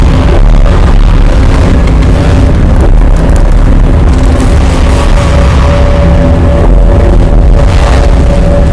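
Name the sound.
sonified gravitational waves of light black hole falling into heavy one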